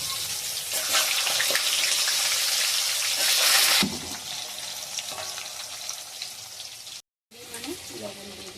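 Bay leaves, dried red chillies and nigella seeds crackle in hot oil for a hing rohu fish curry, a loud bright sizzle that softens after a few seconds, with a brief gap later.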